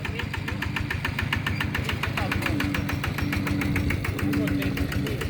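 A farm tractor's engine runs steadily as it arrives on a morning outing, with a fast, regular knocking chug throughout and voices talking over it.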